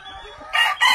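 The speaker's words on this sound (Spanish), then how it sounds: "Ahí está el gallo ya haciendo labor de convencimiento." A yellow-legged Jumper rooster in a farm pen gives a short, loud crow-like call that comes in two close bursts, with faint clucking beforehand.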